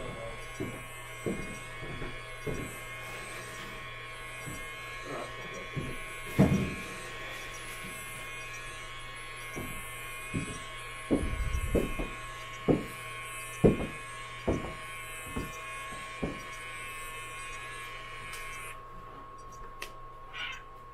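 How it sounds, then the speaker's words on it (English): A motorized valve on a zero pressure balloon opens with a steady electric motor whine, joined by repeated light clicks and knocks at irregular intervals and one louder rattle midway. The whine stops abruptly near the end. "So I'll send the command to open the valve, and the valve begins opening."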